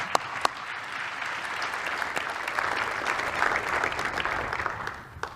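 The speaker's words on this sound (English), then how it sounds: "Let's give them a round of applause." Audience applause for the event staff at a University of Pittsburgh at Johnstown leadership forum, a steady, dense wash of clapping across a large room that holds level, then fades at the end.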